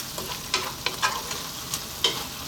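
Moussaka meat sauce sizzles steadily in a pan over low heat, broken by a few scraping strokes of a spoon stirring it.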